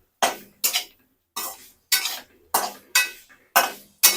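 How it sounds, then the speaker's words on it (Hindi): A spoon stirs egg into cooked masala in a metal pan, making about eight short, sharp scraping clinks at a steady rhythm, each followed by a brief silence. "इसको चलाते हैं"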